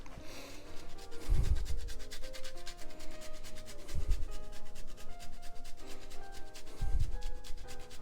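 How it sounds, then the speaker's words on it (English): Pecorino Romano being grated over an omelette, a steady close rubbing scrape running throughout, with three heavier, louder bursts of grating spaced a few seconds apart. "We'll grate some Pecorino Romano onto that."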